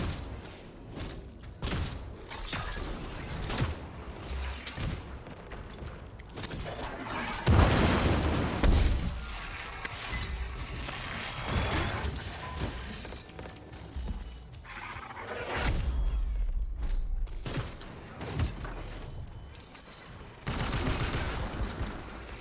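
Video game gunfire, a busy stretch of shots and booming impacts mixed with galloping hooves and other game sounds, with dense bursts rising and falling over about twenty seconds.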